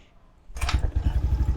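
A Skydrive Sport 115 CVT motorcycle engine is kickstarted, with a sudden scrape and clatter followed by a low, rapidly pulsing idle close by.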